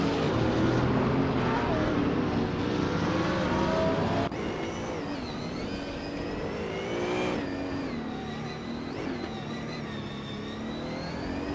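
A 2004 Audi A4 race car engine in a racing game drones loud and steady, with rising and falling revs through gear changes and a continuous roar behind it.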